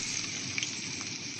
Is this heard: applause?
no